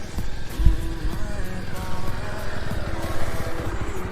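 A motorcycle engine runs steadily with a low rumble while a first-time rider tries riding it in Amin Model Town. The rider is a complete beginner, and the engine stays loud and close for the whole stretch.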